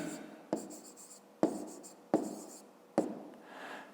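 Pen strokes scratch across paper in a math exercise, four distinct bursts of writing, each starting with a tap and trailing off, close and quiet with no speech.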